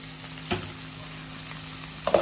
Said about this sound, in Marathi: हे दुसऱ्या साईडला उलटून दुसरी साईड देखील भाजून घेऊया।